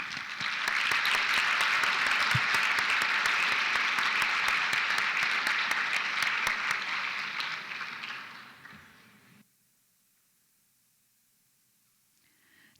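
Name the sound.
audience applause for an award recipient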